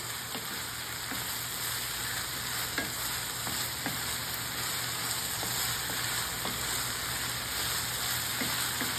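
Ground beef with sofrito sizzles in a frying pan, a steady close hiss broken by light clicks of a spoon stirring, heard alone with no talking.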